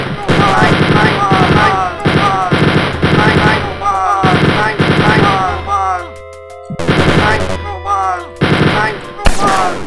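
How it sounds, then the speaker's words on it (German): Enemy gunfire in Wolfenstein 3D rattles in loud, rapid machine-gun bursts, one volley after another with brief breaks, close and harsh, ending on a sharp final shot. "die Typen schießen halt hin und wieder einfach um die Ecke"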